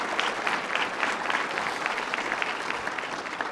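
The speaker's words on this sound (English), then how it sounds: "let's give them a round of applause" A crowd at a city master plan presentation applauds council members and chamber guests, dense continuous clapping at steady volume throughout.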